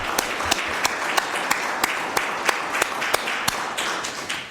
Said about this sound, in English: would everybody please join me in a round of applause